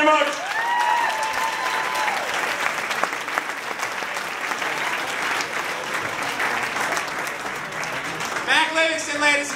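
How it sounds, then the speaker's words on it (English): A comedy club audience gives a comedian a sustained round of applause, with an announcer's voice heard over the clapping at the start and again near the end. "Nice round of applause for Mac Livingstone, everybody."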